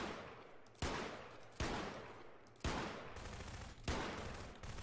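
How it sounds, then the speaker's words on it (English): Gunfire in a video game: four sharp, loud shots spaced about a second apart, each trailing into a noisy decay, with no talking over them. "Whomstiv is shooting me."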